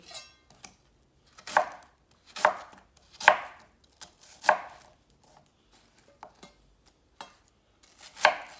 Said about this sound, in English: now it's gonna chop it up to put it in there. All right, we'll get a half an onion